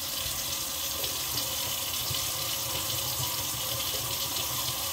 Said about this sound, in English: I'm just letting the water run here for a second.